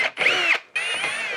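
A power drill with a 4.5mm bit bores holes through a 2021 Isuzu D-Max body for a Safari snorkel install, whining loudly in two bursts separated by a brief pause, close up with no talking.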